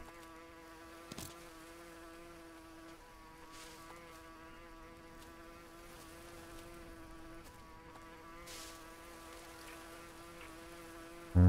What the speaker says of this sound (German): Ich habe jetzt so angespannt gelauscht. Nach diesem Bienennest.